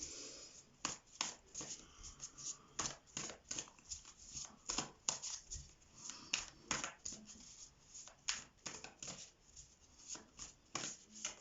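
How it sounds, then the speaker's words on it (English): Tarot cards drawn from a deck and laid out one per section, a run of quick soft card flicks and slaps close by, in an irregular rhythm with no talking over them. "Let's just pull one card here on each section."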